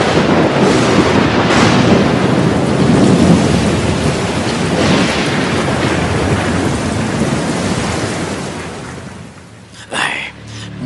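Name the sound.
heavy rain in an animated film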